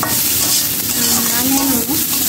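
Okra and fish fry in oil in a pan with a loud, continuous sizzle, while a utensil stirs and scrapes through the pieces close by.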